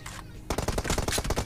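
Rapid bursts of automatic gunfire in Free Fire, a dense string of sharp shots beginning abruptly after a short quiet lead-in and continuing loud and close to the end.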